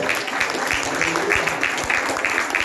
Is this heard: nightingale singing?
no